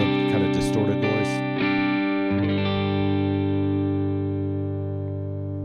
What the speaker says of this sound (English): This 66 AC boost is good for that edgy breakup, kind of distorted noise.